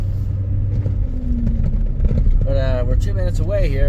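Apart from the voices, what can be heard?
Duramax diesel pickup truck driving on a road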